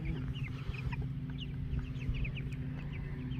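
Meat-bird chickens cluck steadily in a flock, with busy overlapping clucks and chirps over a constant low background hum, no talk.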